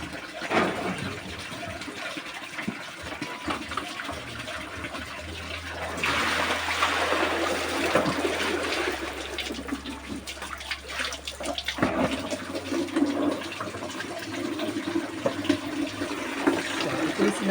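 Strong flow of clear natural spring water at an outdoor bathing spot, a loud continuous rush that swells in the middle, with voices talking faintly over it.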